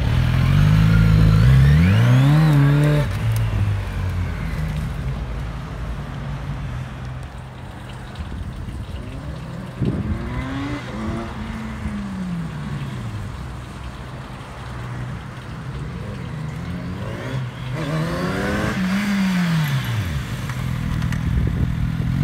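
A Kawasaki Z900RS motorcycle rides out on a sunny day, its engine revving hard through rising gear changes at the start, then settling into steady running with further accelerations, loud and close throughout.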